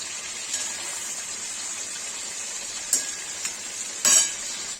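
Paneer fries in hot oil in a pan with a steady, close sizzle throughout, broken by a couple of brief louder spits and scrapes.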